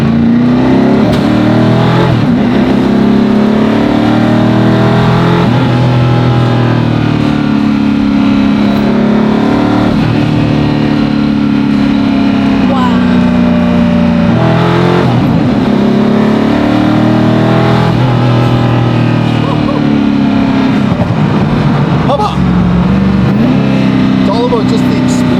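A hypercar engine revs and accelerates, loud and close as heard from inside, with a deep droning note that climbs and falls in repeated surges while a person talks over it.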